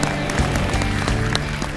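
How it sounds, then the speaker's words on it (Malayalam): A studio audience claps at the singing reality show Top Singer 2, a dense, steady wash of applause lasting a couple of seconds with some faint tonal sound mixed in beneath it. "എല്ലാവരും ഒരു കയ്യടി."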